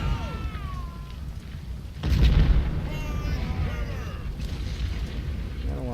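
Artillery booms on a Civil War battlefield in Ultimate General: Civil War, with one heavy deep blast midway standing out from a steady rumble of distant battle noise.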